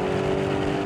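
A Lamborghini Urus SUV engine in Corsa mode drones steadily at high revs, a loud, strong sustained tone with a rough, throaty edge and no pause.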